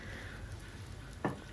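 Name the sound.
butter and oil sizzling in a frying pan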